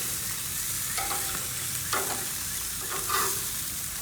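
Marinated chicken drumsticks sizzle steadily in a frying pan, with a few scraping clicks and clatters as the pieces are flipped over, close and fairly loud.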